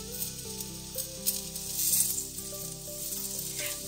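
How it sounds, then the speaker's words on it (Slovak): Eggplant slices frying in hot oil in a pan for Sicilian pasta alla Norma, a steady close sizzle running under a background of music. "V panvici si rozohrejeme olej a restujeme z každej strany."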